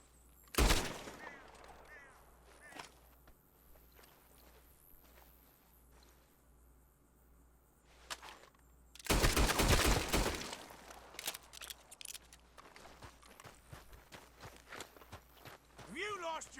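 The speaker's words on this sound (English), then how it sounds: "some cool gunshot effects when I blew that guy's head off" Red Dead Redemption 2 gunfire: a sharp single shot early on, then a loud dense cluster of shots and impacts around the middle, mixed with footsteps and someone talking over the action.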